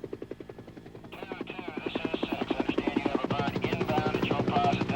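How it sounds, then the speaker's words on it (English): A film-soundtrack helicopter from the Vietnam war film Platoon, with a steady rotor chop that throbs in a rapid even rhythm and slowly grows louder and nearer, its whine rising over a low drone. "A lot of close helicopter work."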